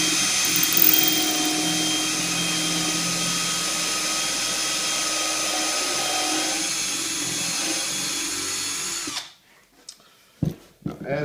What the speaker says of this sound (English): you're going to want to pre-drill some pilot holes for your screws